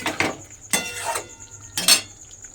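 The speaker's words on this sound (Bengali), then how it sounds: "দিয়ে গরম মশলাটা খুব ভালোভাবে মিশিয়ে দেব।" A utensil stirs garam masala into a paneer curry in a metal pan, making a few sharp clinks and scrapes, three distinct strokes at close range over a quiet background.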